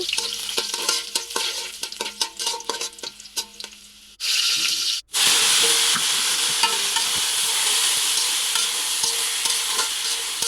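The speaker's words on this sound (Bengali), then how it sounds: "এখানে হচ্ছে পুঁই শাক ভাজি করতেছি" Malabar spinach (pui shak) sizzles and fries in a pan with steady scraping stirs, loud and close, briefly cutting out partway before the hiss returns stronger and continuous.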